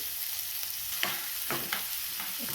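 Chopped onion frying in a pan with cumin and garlic paste, a soft continuous sizzle broken by a few brief scraping stirs, quiet and close, no voices.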